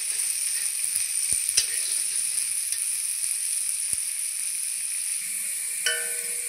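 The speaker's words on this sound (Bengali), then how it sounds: "পেঁয়াজও ভেজে নেব।" Onions and garlic sizzle steadily in a hot pan for potato bhorta, a constant bright frying hiss with a few sharp clicks and scrapes of stirring.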